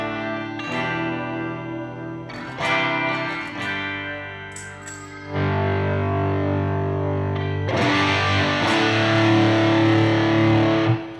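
A Les Paul electric guitar through a Zvex '59 distortion pedal plays loud, sustained, heavily driven chords and single notes. A quieter cleaner passage opens the phrase before the fuller, saturated strums ring out.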